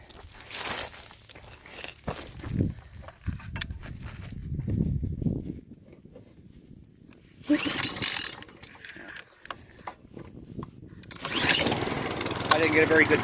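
Small engine on a Keen 151s drywasher cold-started after sitting overnight: rough pull-cord rasps and sputtering bursts, then a louder steady running idle, with someone talking over parts of it.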